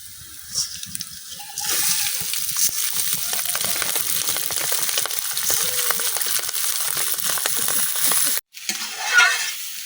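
Broken rice sizzles in hot oil with fried onion and garlic for a Netrokona-style khud dish, a steady frying hiss broken by repeated scraping stirs close by, then a brief cut-off and a few clinks.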